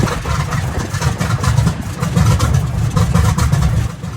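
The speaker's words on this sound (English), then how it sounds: "the first engine run was completed." The vintage aircraft FIFI runs a radial engine during a ground test, a loud, close, throbbing roar with a rough rhythmic pulse that holds steady and swells slightly, with no voices.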